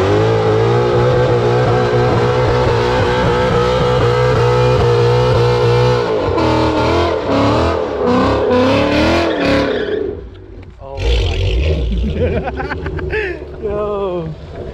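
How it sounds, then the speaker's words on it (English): A cammed Charger 392 muscle car does a burnout, its engine revving hard and loud for a long sustained stretch with rising and falling pitch, then a brief dip before it revs again. "All right, now it's time for a burnout."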